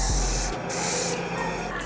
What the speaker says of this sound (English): I have my enhancements purposely set to where I have to hold it for it to really spray a lot